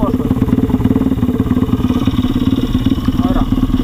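An MRF 170 RC-U pit bike engine revving loud and close, a steady rapid chugging drone with slight pitch changes as it pulls through the gears, a voice faintly mixed under it.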